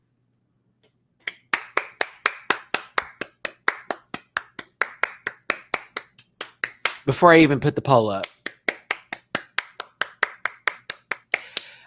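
A drag race reviewer claps hands in a steady, close, sharp rhythm, with a brief burst of talk in the middle before the clapping continues.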